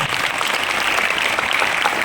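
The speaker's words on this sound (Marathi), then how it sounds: "टाळ्या वाजवा त्याच्यासाठी" A crowd clapping steadily, dense applause filling the whole moment without pause.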